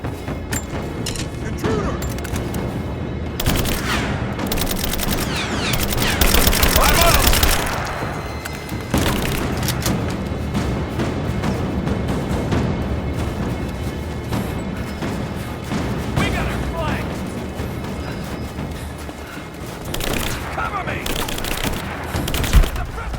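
Gunfire in the video game Rise of the Tomb Raider: dense bursts of automatic shots and booming impacts rattle almost nonstop, with a heavier volley midway, while voices shout over the fighting.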